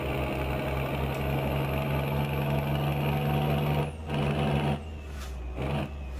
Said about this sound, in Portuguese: Bora curtir aqui o ronco do motor da bruta.